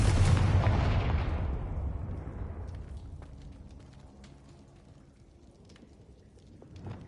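A Confringo blasting spell in the Hogwarts Legacy video game goes off as one loud booming blast that fades slowly over several seconds, followed by a few faint scattered crackles and a small thump at the end.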